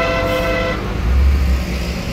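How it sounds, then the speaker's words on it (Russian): A car horn sounds a loud, sustained toot for under a second in a traffic jam where six lanes narrow to half a lane, then gives way to steady engine and road rumble. "Давайте, и мы посигналим, у нас сигнал хороший"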